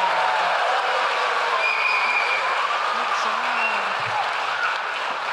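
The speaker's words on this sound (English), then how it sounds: "think we need another round of applause." An audience at a church worship service led by children applauds steadily throughout, a dense, even wash of clapping at moderate loudness, with faint voices mixed in.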